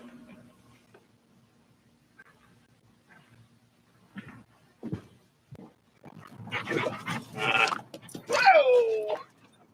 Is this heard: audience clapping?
no